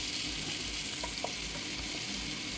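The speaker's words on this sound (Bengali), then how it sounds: "এবারে পেঁয়াজটাকে কিন্তু আমি একটু লাল লাল করেই ভেজে নেব" Chopped onion frying in oil in a pan for a Bengali pabda fish curry, browning to a reddish color, with a steady close sizzle and faint stirring scrapes throughout.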